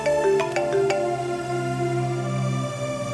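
A phone ringing with an incoming call, a bright melodic ringtone of short rising tones followed by a sustained electronic chord, close and alone with no talking.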